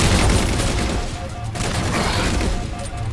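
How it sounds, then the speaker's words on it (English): Dense, continuous gunfire from enemy contacts in Halo 4, a loud rattling barrage of rapid shots with booming impacts over a steady battle din, unbroken for about three seconds. "We have contacts firing."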